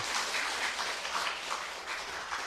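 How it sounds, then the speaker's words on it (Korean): A church congregation applauding steadily, a dense wash of many hands clapping together for a couple of seconds with no voices on top. "우리 박수로 한번 확인합시다."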